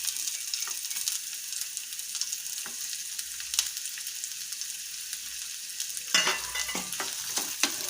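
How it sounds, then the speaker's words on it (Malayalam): Chopped onions sautéing in a pan for vegetable wheat noodles: a steady, close hissing sizzle, with a few sharp stirring scrapes and clatters toward the end. "സവാള നമുക്കൊന്ന് നല്ലോണം വഴറ്റാം"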